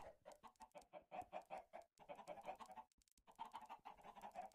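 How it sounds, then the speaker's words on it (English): Chickens in Minecraft cluck in short, choppy bursts, several calls in quick succession with brief gaps, clear and close. "I think the chickens are in there,"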